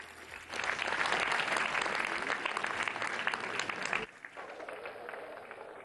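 Audience at a National Voters' Day event applauding to welcome the Governor, a dense burst of clapping that carries for several seconds, then thins out and fades.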